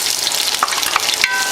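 Fried garlic being stirred through hot peanut oil, a steady close sizzle with a few brief scraping stirs of the utensil, no voices.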